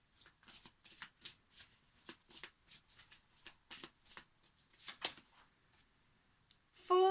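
Tarot cards are shuffled by hand in a rapid series of crisp riffles and flutters, close and fairly quiet, with a brief clatter at the end.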